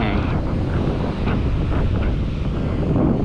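Strong wind on a Sri Lanka beach in the low season roars across the microphone in a loud, constant rush, and the surf is mixed into it and hard to separate.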